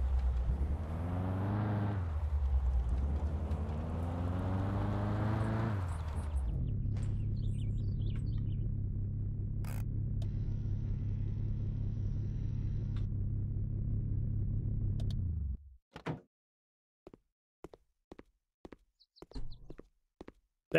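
A car in the game Mon Bazou labours uphill, its engine droning low and steady and revving unevenly before cutting out, followed by a few faint clicks and chirps in near silence.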